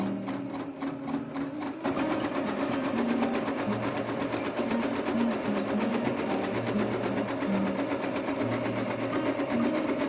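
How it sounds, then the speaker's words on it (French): Domestic sewing machine running steadily while stitching a zigzag seam along the edge of fabric, a continuous close mechanical whir with rapid needle rhythm that starts up after a quieter opening moment. "Donc là je suis sur la machine à coudre."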